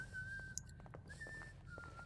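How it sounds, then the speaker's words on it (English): An NPC whistles a tune in the Hitman Absolution video game. The melody is quiet and sustained, with short pauses between phrases, over a soft, low background. "Yeah, you continue whistling."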